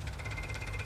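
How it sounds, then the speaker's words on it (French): An old, well-kept tractor engine runs steadily nearby, a continuous low mechanical throb with a faint rhythmic knock and vibration. "Vieux tracteur."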